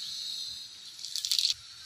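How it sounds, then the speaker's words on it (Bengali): Cumin seeds hit hot oil left over from frying fish. A faint steady hiss rises into a brief, bright crackling burst, then settles back to a low sizzle. "এবার জিরা দিয়ে দেবো।"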